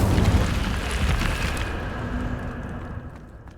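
An Incendio fire spell is cast in Hogwarts Legacy, a whooshing burst of flame that roars loudly at first and then fades away over about three seconds.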